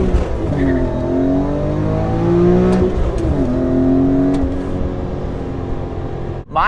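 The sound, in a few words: BMW E46 M3 engine revving through a downshift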